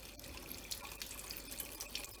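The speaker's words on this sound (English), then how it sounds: "Just let the rest of the water pour out." Residual water drains from a Mira Advance ATL thermostatic shower, running and splashing steadily at a low level, a soft continuous trickle and pour with faint drips, no voices.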